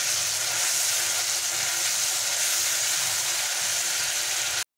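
A masala of grated tomato and ginger fries in a pan with a steady, close, dense sizzle that runs unbroken until it cuts off abruptly at the end.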